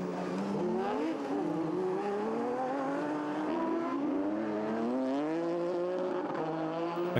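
Silhouette race cars in a Division 3 French Championship heat roar past together, a Mini Cooper leading, their engines revving and shifting in overlapping rising and falling pitches with a brief tire squeal, loud and continuous.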